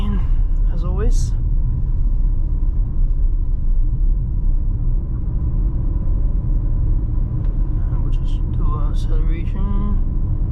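An MG ZST 1.3 turbo car drives over a bumpy road, a steady low rumble of road and tyre noise filling the cabin, with someone talking over it at moments.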